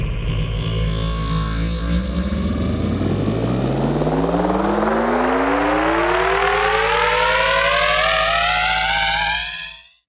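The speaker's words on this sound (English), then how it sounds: "Let's turn the feedback way up here to create a really interesting effect." FRQ Shift frequency shifter with delay and high feedback, producing a loud, siren-like tone whose stacked pitches climb steadily for about nine seconds before cutting off abruptly.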